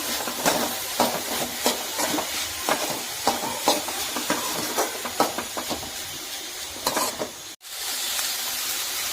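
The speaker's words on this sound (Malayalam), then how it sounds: "ഒന്ന് ഇളക്കി കൊടുക്കട്ടോ" Spinach stir-fry (cheera thoran) being stirred in a pan, with a steady soft sizzle and hiss broken by repeated scraping strokes of the spoon, ending in a brief cut of silence before the sizzling resumes.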